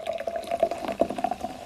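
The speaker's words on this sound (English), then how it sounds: "I'm going to put some mineral water on it to kind of give it a" Sparkling mineral water is poured into a shrub drink, a short close trickle with a steady tone and light fizzing pops, no voices.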